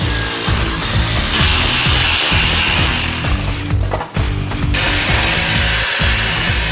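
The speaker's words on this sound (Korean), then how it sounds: "연통도 직접 만든 것으로 크기 자체가 꽤 넓기 때문에 구멍도 크게 뚫어야 한다" A large hole is cut in a handmade stovepipe with a power tool, a loud grinding, rasping cut that runs continuously with rhythmic pulses and a brief dip midway, close up with no talking.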